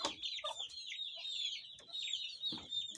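Chickens cluck close by in short, repeated bursts, with a few higher squawks breaking through.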